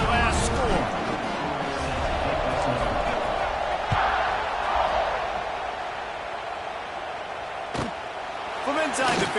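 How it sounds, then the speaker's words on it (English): Stadium crowd at a Penn State college football game, a loud, steady roar of many voices filling the space, with occasional sharp thuds and claps rising out of the din. "this crowd is buzzing after that last score"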